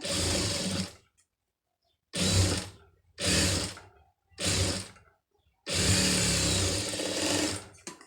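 A sewing machine stitches a fabric band joint, running in five bursts of steady whirring separated by brief pauses, the last burst the longest, close and clear with no talk.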